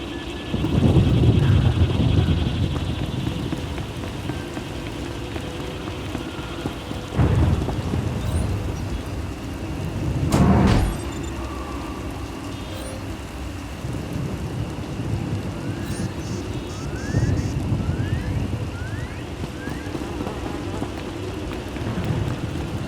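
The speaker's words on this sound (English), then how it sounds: "Hard to track them through the storm. Rain's wiped out the trail." Steady rain pours with rolling thunder claps in a stormy scene from Star Wars: The Old Republic, the downpour constant and loud, broken by several deep thunder rumbles and one sharp crack near the middle.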